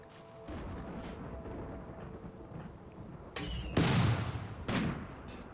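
Gunfire in RimWorld, a few sharp shots and booming reports popping over a continuous background hum, with the loudest blast near the end followed by a smaller echoing one.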